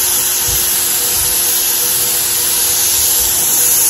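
A paint sprayer running with unthinned enamel paint too thick for its needle size, a loud, steady close-up whir and hiss with no variation throughout.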